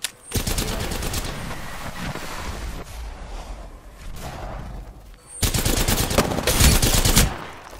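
Rapid automatic gunfire in Apex Legends, two loud sustained bursts separated by a stretch of rattling, lower-level firing, dense and close with no talk.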